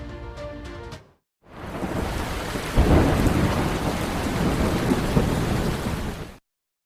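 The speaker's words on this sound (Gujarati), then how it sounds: "ઉત્તર ગુજરાતમાં અનેક સ્થળે અતિ ભારે વરસાદ જોવા મળી રહ્યો છે" Torrential monsoon downpour with thunder in Banaskantha, Gujarat: a loud, dense roar of heavy rain hammering surfaces, preceded by a brief rumble and swelling into a deep thunder peak midway, close and unbroken.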